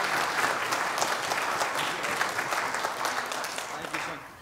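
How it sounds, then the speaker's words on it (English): A large church congregation applauds graduates warmly, a dense wash of clapping that holds steady and then begins to fade, with some voices mixed in. "Would you give our graduates a round of applause,"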